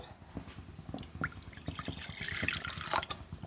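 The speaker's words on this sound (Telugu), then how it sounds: "వాటర్ వేసుకుందాము." Water splashes and gurgles as it is poured into a pot of cooked lentils for sambar, a close, quiet trickle with bubbling spatters.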